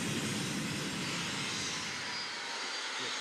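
Airliner jet engines at the gate in a flight simulator game spool down, a loud broad roar whose low rumble thins and fades toward the end.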